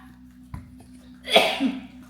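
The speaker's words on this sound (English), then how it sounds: "I'm still sneezing." A single sharp sneeze bursts out in a home kitchen during fish fry cooking, over a low steady hum, with a fainter catch of breath just before it.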